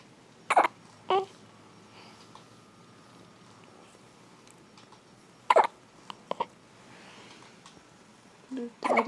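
A young child hiccups at night in a quiet room, giving short, sharp catches in spaced bursts with long silences between them, close and fairly loud.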